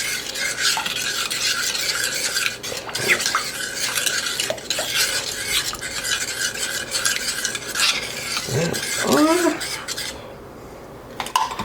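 A spoon stirs a creamy sauce in a pan, scraping and clinking against the metal over a soft sizzle, with intermittent strokes and a brief quiet spell near the end.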